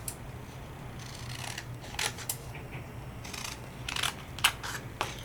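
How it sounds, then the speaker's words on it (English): Scissors snip through a peel-off sticker sheet in several quiet, separate cuts over a faint steady hum, with no talking. "So I'm going to cut that off."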